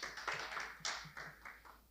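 Applause from an audience at a hybrid annual general meeting, a sparse, fairly faint patter of hand claps without any voices.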